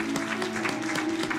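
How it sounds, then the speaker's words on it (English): A church congregation clapping during a Sunday service, giving God a hand clap. Brief, fairly rhythmic hand claps sound over a steady sustained musical tone. "give God a hand clap for that"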